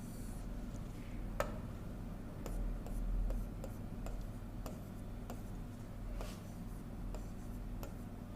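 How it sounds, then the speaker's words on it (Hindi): Pen or chalk writing, a series of short scratching strokes at steady intervals over a constant low hum, with no talking. "यहाँ मैं नीचे लिख दे रहा हूँ, नीचे लिख दे रहा हूं।"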